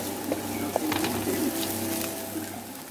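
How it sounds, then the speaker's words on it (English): Steady frying sizzle of sausage and scrambled egg in a hot wok, close and continuous, with faint clinks of stirring now and then. "frying the sausage at the same time"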